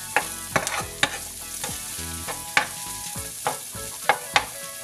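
Dried oregano sautéing in a pan, a soft steady sizzle under clinks and scrapes of a utensil stirring at irregular intervals, with no one speaking.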